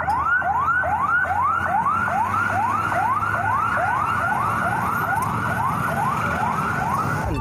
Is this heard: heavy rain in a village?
no